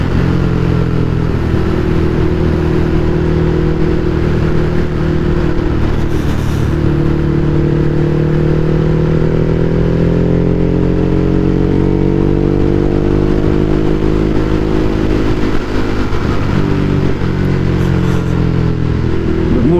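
Ducati Hypermotard 821 motorcycle engine droning loudly and steadily while riding on a road, with gentle rises and falls in revs throughout and no talking.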